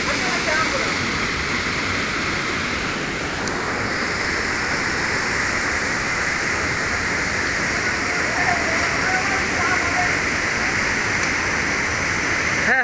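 Ram Jodi waterfall roaring loud and close, a dense unbroken rush of falling water throughout.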